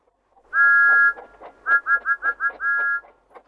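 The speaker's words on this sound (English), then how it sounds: "he whistled rudely" A cheeky, rude whistled tune from a tractor in a children's audiobook: one long note, then a quick string of short chirpy notes and another held note, clear and close against silence.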